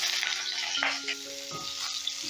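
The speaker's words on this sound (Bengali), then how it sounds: "এবারে ওই তেলেই আমি সেদ্ধ করা ফুলকপিগুলো ভেজে নেব" Boiled cauliflower fries in hot oil, reused from frying lentil dumplings, with a continuous close sizzle and a few soft clinks and stirs.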